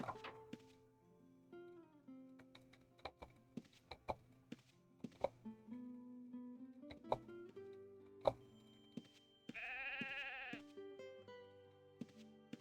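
Sheep bleat in the Ultima Online game world: a wavering bleat stands out near the end, after a run of sharp thunks and clicks from game actions.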